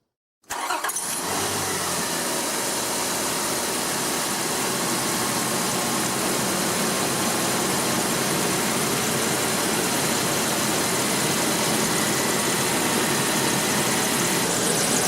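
Engine of a 2001 Infiniti QX4 with a 3.5L V6 catching and settling into a steady idle just after an oil change, a continuous close engine drone with no talk.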